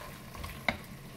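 Mutton roast masala is stirred on a high flame. A single quick scrape of the spoon cuts through a faint, steady sizzle in a very short, quiet moment.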